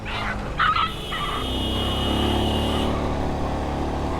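A dog yelps and whimpers sharply after being hit by a car, over the steady roar of the passing vehicle, loud and close.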